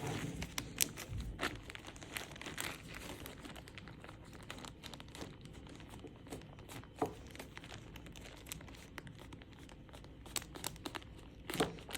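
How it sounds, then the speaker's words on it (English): A Ziploc bag being squeezed to push the air out while it is prepared for a nail practical exam, giving steady close crinkling and crackling with scattered sharper plastic snaps throughout, no voices. "And before I secure the Ziploc, make sure to get all of the air out."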